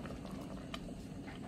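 Peach cobbler filling simmering in a pot, a low continuous bubbling with a few soft pops, close and steady, with no voices.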